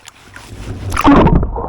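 A camera drops into a creek during river sluicing for gold, giving a sudden close splash and sloshing gurgle of water that swells loudly about a second in after quieter rustling.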